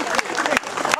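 Crowd applause for award winners at a harvest festival (dożynki) in Pełczyce, steady clapping filling the whole second with dense hand claps.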